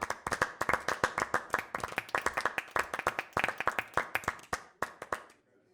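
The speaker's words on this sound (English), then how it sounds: "Let's give ourselves a big round of applause." A small group applauds after a meeting, a brisk burst of dozens of sharp, distinct hand claps in quick uneven rhythm, close and fairly loud, tapering off and ending abruptly.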